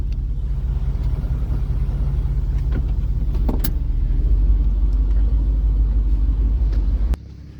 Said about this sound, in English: there's all kinds of traffic on this.